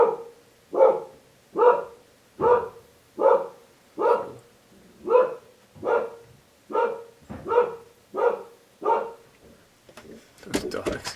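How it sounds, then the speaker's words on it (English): A dog barks in a steady, evenly spaced series of about a dozen loud, close barks, one roughly every second, with a rougher noisy stretch at the end. "Those dogs."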